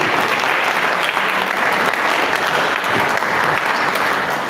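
Dense, steady applause from an audience at an agricultural service capacity-building event, loud and sustained throughout with no pauses.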